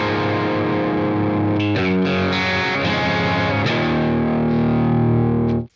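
A Telecaster electric guitar with heavy gain and compression plays driven, sustained chords and a short riff. The tone is loud and saturated, the notes change a few times and ring out before a quick cutoff, with no talking.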